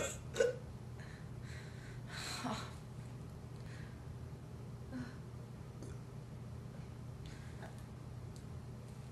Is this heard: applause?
no